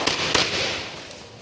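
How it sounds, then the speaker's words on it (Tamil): Firecrackers burst at the Muthumariamman temple festival in Velachery, Tamil Nadu: two sharp, loud bangs close together, then a crackling wash that fades. "பட்டாசு"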